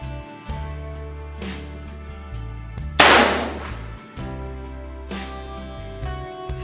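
A Remington 1858 black-powder revolver, left loaded for over a year in damp conditions, fires a single loud sharp shot midway through, with a short ringing decay over a steady background hum.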